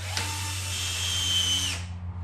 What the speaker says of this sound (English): Got my screw gun.